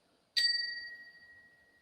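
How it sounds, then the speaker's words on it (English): An old server's bell, its wooden handle rotted off, is struck once and gives a bright, clear ding that rings on steadily and fades slowly over about a second and a half, with no voices. "No, I think it used to have a handle, like a server's bell."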